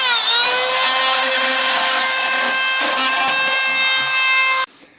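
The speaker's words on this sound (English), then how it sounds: "now you can see I'm forcing air inside of the heater element, and you can just see the dirt is just coming off the inside of the grill" Hurricane canless air system forcing a loud, steady whine of high-pressure air into a heater element grille to blow out dirt, running continuously for several seconds close up before cutting off abruptly.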